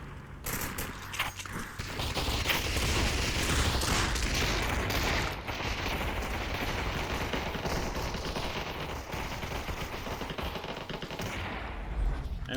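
Rapid automatic gunfire in an online video game match, dense sustained bursts of shots rattling continuously for several seconds under a busy, loud mix with no clear talk.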